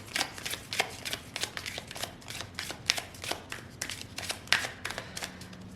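Tarot cards are shuffled and handled for a love reading, a close series of crisp slaps and riffles in uneven bursts with no speech.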